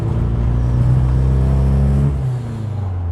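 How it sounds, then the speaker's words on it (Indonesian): A Honda Civic Estilo SR3 B18C Type R engine, running too rich, revs loudly and unevenly with sputtering, its rough drone rising and holding before dropping off, close by with no talking. "mesinnya pun juga tuh kalau ditarik rada-rada berebet."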